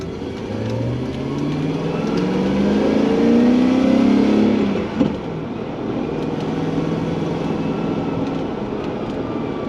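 A V8 car engine with noisy lifters and little insulation around the shifter drones loudly inside the cabin, rising through a rev toward about 5,000 RPM, then easing back to a steady rumble with no talking.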